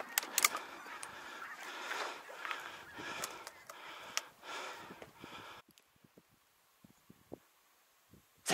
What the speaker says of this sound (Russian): А тут гуси из болота вылезают